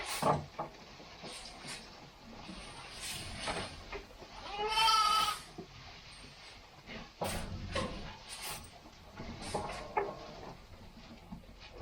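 Sheep bleat close by while being fed, several wavering calls at irregular intervals with one long loud bleat in the middle, amid shuffling and rustling.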